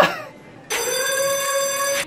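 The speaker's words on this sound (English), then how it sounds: "I'm gonna ring the alarm on all of you!" An alarm bell rings loudly and continuously for over a second after a brief quieter lead-in, a bright sustained electronic ring that cuts off abruptly.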